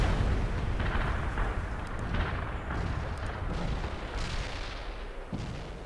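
Heavy artillery barrage in the military strategy game World in Conflict, a dense continuous roar of overlapping booms and blasts filling the whole clip with no pauses.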